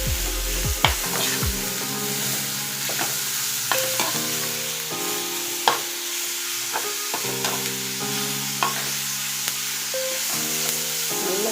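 Carrot and capsicum fry in a pan with a steady sizzle, while a spoon stirs and occasionally scrapes and taps against the pan, all heard close and without talking.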